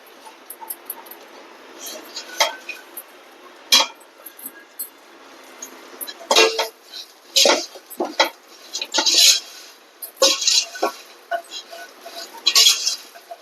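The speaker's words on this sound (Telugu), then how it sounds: "1 నిమిషం పాటు వేయించుకొని ఇప్పుడు ఈ దొండకాయలు వేసేసాను" Ivy gourd (dondakaya) stir-fried in a home kitchen pan, with sharp irregular clinks and scrapes of a spatula against metal, loud and close, scattered between quieter pauses.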